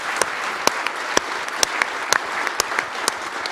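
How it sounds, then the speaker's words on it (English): Audience applause at a government showcase event fills the room, a dense steady wash of many hands clapping with a few sharper claps standing out, no talk over it. "Give him another round of applause."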